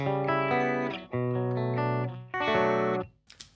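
An electric guitar plays through the clean channel of a Peavey Vypyr 75 amp. Three sustained chords ring out loud and close, each cut off before the next, followed by a short quiet tail.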